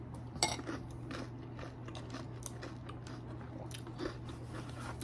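Crunchy cereal is eaten at close range, with steady chewing crunches and occasional spoon clinks against a bowl over a low constant hum.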